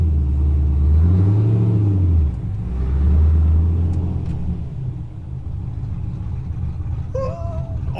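A re-tuned Pontiac GTO engine keeps running after a quick stop, a loud close rumble with a rising and falling rev early on, then settling into a steady idle.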